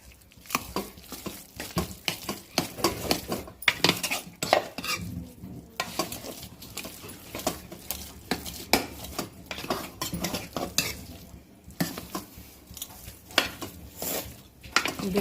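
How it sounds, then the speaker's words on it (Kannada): Cooked moong dal being mashed in a pot, heard as continuous close-up stirring and squelching with a spoon scraping and knocking against metal in an uneven rhythm. "ಹೆಸರು ಬೇಳೆನ ಬೇಯಿಸ್ಕೊಂಡಿದ್ವಲ್ಲ ಅದನ್ನು ಸ್ವಲ್ಪ ಅಲ್ಲೇ ಸ್ಮ್ಯಾಶ್ ಮಾಡಿಕೊಂಡು"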